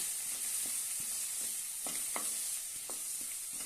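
Okra and potato sabji, seasoned with salt and garam masala, is sautéed and stirred in a pan. A steady close sizzle runs throughout, broken by repeated scraping stirs, with no talking.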